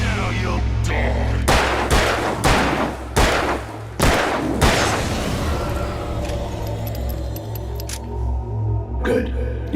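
Several loud gunshots in the video game Alan Wake, sharp blasts spaced about a second apart over a low droning game ambience, followed by ringing metallic tones and a fading tail.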